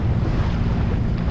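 Wind buffets the microphone while ocean waves wash against a sailboat off the East Australian coast near Cape Upstart, a loud, constant rumbling roar with no talking.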